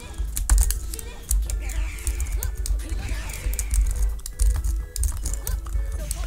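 Rapid keyboard typing and key-mashing during a Vanguard Princess fighting game session, clattering steadily and fairly loud throughout over busy game sounds.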